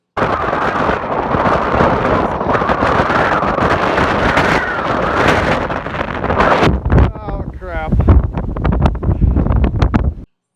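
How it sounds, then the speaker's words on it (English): Strong wind on a golf course roars and buffets the microphone continuously, with a voice breaking in briefly near the end amid gusty rumbling. "Check out how windy it was for him."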